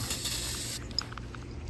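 Spray hissing onto the underside of a Raptor 700 ATV during a sanding and refinishing job, a steady close hiss that cuts off partway, followed by faint ticks and small clicks.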